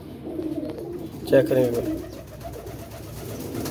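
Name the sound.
pigeons cooing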